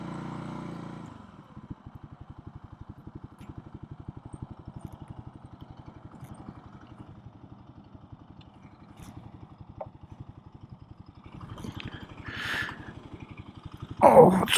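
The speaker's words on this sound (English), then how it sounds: "see if I can show you what I mean with that exhaust." Kawasaki KLX 300 motorcycle idling with a steady low, pulsing exhaust putter, moderately close, a brief rise in engine and rustling noise near the end.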